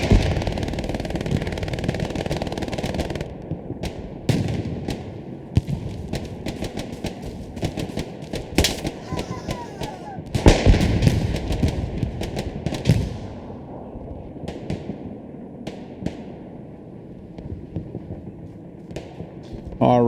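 Machine gun fire from an MG in the World War II shooter Hell Let Loose, set during a German breakthrough: long stretches of rapid, loud bursts with thumping impacts, tapering to scattered, sparser shots toward the end.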